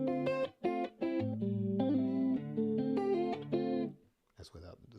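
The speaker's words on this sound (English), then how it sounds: "Here's how the clean sound with the chorus." Clean electric guitar tone through a chorus effect, with a few plucked chords and single notes ringing in a clear, shimmering sequence before a short pause and a brief scrape.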